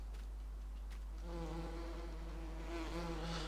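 Bees buzzing in the Farming Simulator 19 video game, a steady droning hum that swells and grows louder, with no talk over it.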